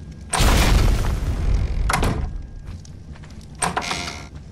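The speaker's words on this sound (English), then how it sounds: "here come the grenades." Grenades explode in the video game ARK Survival Evolved, three heavy booming blasts in under five seconds, each a broad rumbling burst that fades out between hits.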